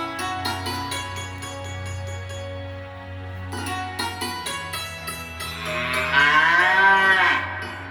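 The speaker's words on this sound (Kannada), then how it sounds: "ಸಂಜೀವಕನ ನೋಡಿದ ದಮನಕವು ಇದು ಒಂದು ಮಹಾಗೂಳಿ ಎಂದು ತಿಳಿಯಿತು." A bull lowing in a Panchatantra story, with long low moos over a tonal musical backing, the call rising in pitch and loudness near the end.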